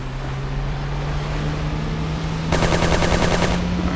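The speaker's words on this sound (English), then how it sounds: "Alright, we got machine guns." Mounted machine guns on an armed boat in the video game Just Cause fire a rapid, loud burst of about a second over a steady engine drone and rushing water.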